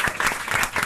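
A brief burst of studio audience applause on a French television talk show, a short dense patter of clapping that fills the moment without voices.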